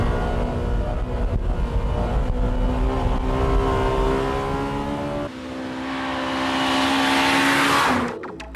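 A Honda Civic Type R on a winding test course modeled on the old Nürburgring: a loud, steady engine drone with rising revs, then a brief squeal or scrub and a sharp drop-off near the end, no talking.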